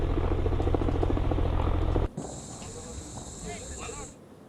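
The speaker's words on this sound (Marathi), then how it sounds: "हेलिकॉप्टर क्रॅश होतानाची ही दृश्य आहेत" A helicopter that crashed at Mahad, captured just before the crash: a loud, steady rotor and engine drone for about two seconds, then it cuts off, leaving quieter hissing and a high whine with faint scattered sounds.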